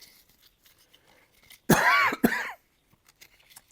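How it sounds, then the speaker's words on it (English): Two sharp coughs in quick succession, close and fairly loud, standing out against near silence. "I don't know why I'm coughing."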